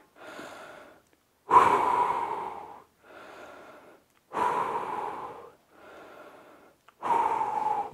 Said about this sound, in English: So let's breathe a little bit more.